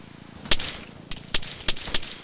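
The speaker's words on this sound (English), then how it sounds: "I think we're taking fire" Gunfire in the ArmA military shooter game: a handful of sharp, separate cracks, some single and some in quick pairs, fairly loud and close over a low steady background hum, with no talking.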